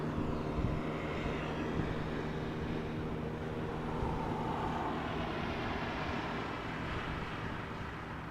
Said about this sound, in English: 787-10 Dreamliner arriving from LAX.